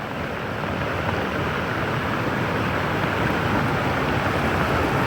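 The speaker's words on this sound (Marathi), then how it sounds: "पालघर जिल्ह्यामध्ये मुसळधार पाऊस बरसतोय, नद्यांना पूर आलाय" Heavy monsoon rain pours down in Palghar district as rivers flood, making a dense, unbroken roar of water that stays loud and even from start to finish.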